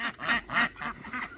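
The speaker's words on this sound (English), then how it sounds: "That little duckling was stuck in the pool." A duck quacks in a series of loud, raspy calls close by on a farm with poultry, several quacks in quick, uneven succession with no talk over them.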